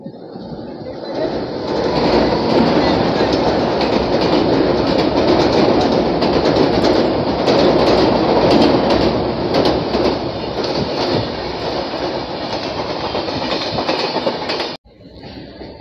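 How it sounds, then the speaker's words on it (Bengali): The Jan Shatabdi Express, Chennai to Vijayawada, roars past close by for about thirteen seconds, wheels clattering rhythmically, then the noise cuts off abruptly. "এবার আসছে জনশতাব্দী এক্সপ্রেস চেন্নাই থেকে বিজয়ওয়াড়া"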